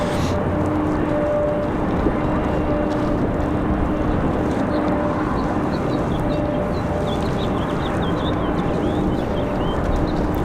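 A Frontier airliner takes off at Raleigh-Durham airport in gusty wind, a steady broad roar of jet engines mixed with wind noise, rising slightly with faint high whine toward the end.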